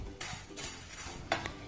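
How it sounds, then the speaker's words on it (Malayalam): Crushed Maggi noodles dry-roasting in a frying pan, stirred with a few soft scraping strokes and a light clink, quiet and close. "ഇനി ഇതൊരു ഫ്രൈയിങ് പാനിലേക്ക് ഇട്ടിട്ട് നന്നായിട്ടൊന്ന് വറുത്തെടുക്കാം"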